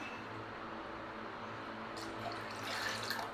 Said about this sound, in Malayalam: ഈ വെള്ളം എടുത്ത് അല്ലേ ഇതെടുത്ത് അങ്ങോട്ട് ഒഴിച്ചു കൊടുക്കാം